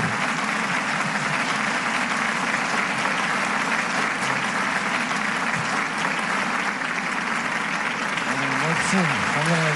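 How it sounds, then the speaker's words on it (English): A rally audience at a Universal Peace Federation event claps in a steady, continuous round of applause, with a voice speaking over it and a tonal sound near the end. "Let us give another round of applause for the little angels"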